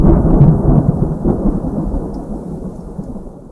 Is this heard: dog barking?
no